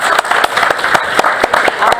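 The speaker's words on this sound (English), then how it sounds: "I'm just going to clap for him" An audience at a school district board meeting claps in a steady, moderately loud burst of applause, individual hand claps audible throughout.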